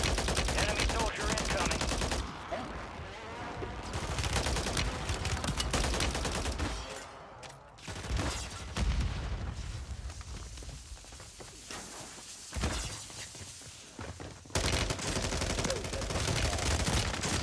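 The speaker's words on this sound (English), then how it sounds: "Oh, I'm getting shot by everybody though." Sustained enemy gunfire in Warzone 3, dense overlapping bursts of automatic weapons and single shots rattling almost continuously, loud and close, with a few brief lulls before the firing swells again.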